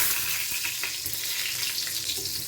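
Semolina-coated eggplant slices frying in hot oil, a close, constant sizzle with fine crackles and a few soft pops, steady throughout.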